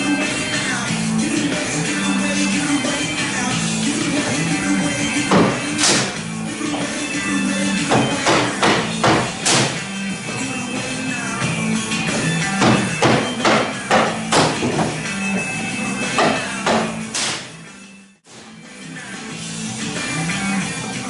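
Sides come off the wooden shipping crate of a Grizzly G01021X2 planer with irregular close knocks, taps and thuds, bunched in busy runs over a steady low background hum, with a brief dropout near the end.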